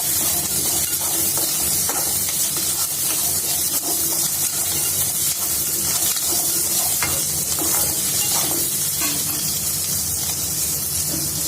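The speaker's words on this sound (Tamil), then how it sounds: "இது கூட சின்ன வெங்காயம் பூண்டு எல்லாம் சேர்த்துக்கு நான் வதக்கிக்கிட்டு இருக்கேன்" Shallots and garlic sauté in a pan for a Tirunelveli-style mavadu vatha kuzhambu, giving a steady, close sizzle and frying hiss with occasional stirring scrapes, with no talk throughout.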